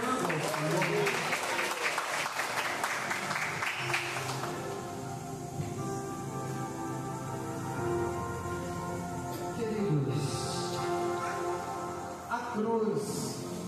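A church congregation applauds while sitting down after a prayer at a Portuguese-language evangelical sermon, steady mid-level clapping mixed with voices and a sustained musical backdrop.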